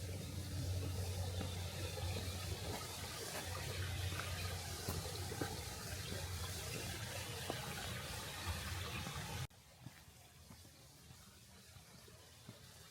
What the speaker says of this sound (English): Bubbling brooks,